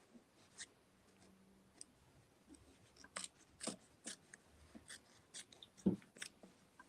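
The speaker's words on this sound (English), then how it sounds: "I'm using a hoop scissors mini" Small hoop scissors snipping fabric close to embroidery stitching, a sequence of quiet crisp snips and clicks at irregular intervals, near and faint, without talk.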